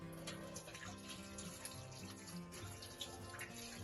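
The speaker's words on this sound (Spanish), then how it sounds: "Mojar con suficiente agua." Tap water runs steadily into a sink to wet the hands before handwashing in a prison dining hall kitchen, a continuous close splashing flow with no talk.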